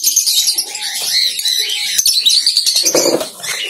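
Lovebirds in a colony chirp and tweet continuously, a dense, bright chatter of many birds close by, with a few louder calls near the end and no talk.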